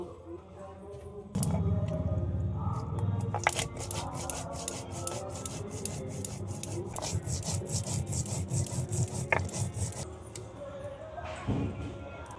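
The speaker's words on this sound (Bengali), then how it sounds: "রসুন বেটে নেব জিরে মরিচ বেটে নেব" Garlic, cumin and chili being ground by hand on a grinding stone produce repeated gritty scraping and rubbing strokes in a steady back-and-forth rhythm, close and moderately loud, pausing briefly near the end.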